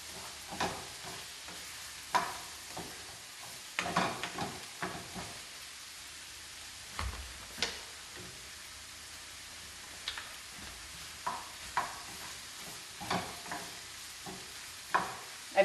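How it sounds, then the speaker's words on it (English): Canned diced tomatoes, undrained, are added to a cooking pan and stirred. Irregular spoon scrapes and clicks come every second or two over a quiet, low sizzle, close and without talk. "we'll go ahead and add the can of tomatoes,"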